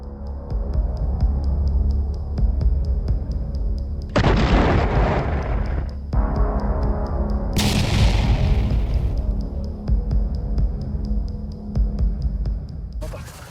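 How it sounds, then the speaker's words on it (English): Artillery explosions hitting a convoy of Russian vehicles in Ukrainian countryside, heard as deep booming blasts and bursts over a low, throbbing rumble, several loud impacts across the span. "Explosions echoed across the countryside as the convoy was abruptly halted"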